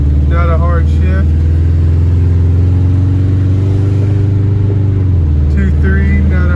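A 1990 JDM Subaru drives on the road, its engine droning close and loud as it climbs through the gears, and its pitch drops near the end as it shifts. Someone talks over the engine.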